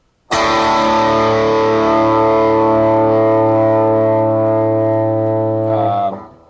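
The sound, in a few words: electric guitar chord with distortion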